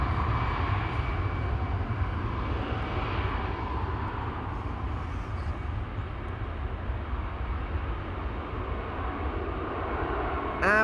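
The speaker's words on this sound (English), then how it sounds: "we are going to first see this 777-300 to Mumbai, KLM flight 877" A KLM Boeing 777-300 bound for Mumbai roars steadily at Schiphol airport, its jet engines producing a broad, continuous rumble at moderate distance with no talking.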